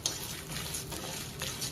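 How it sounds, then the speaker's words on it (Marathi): Ingredients for gunpowder podi chutney dry-roast in a pan over a low gas flame, giving a soft, continuous faint sizzle with light scraping as they are stirred, quiet and close, with no talk. "बारीक गॅसवरती क्रिस्पी भाजून घेऊ"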